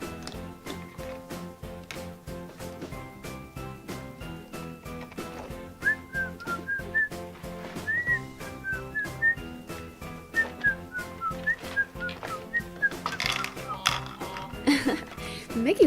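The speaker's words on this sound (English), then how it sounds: "Mickey's whistling while he works." A Mickey Mouse Clubhouse toy bulldozer playset plays a cheerful whistled tune over a rhythmic clicking, tapping beat, with short melodic whistle phrases repeating and brief speech near the end.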